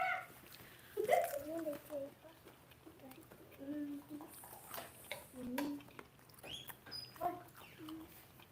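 Children stacking plates and cups into a tower, light scattered clinks and clatters of dishware, close by, under an adult's encouraging talk and children's voices.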